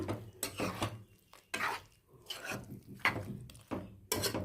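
Curd being stirred into vegetable avial with a spoon in a pot, giving irregular scraping and clinking bursts of utensil against metal, separated by brief quiet gaps.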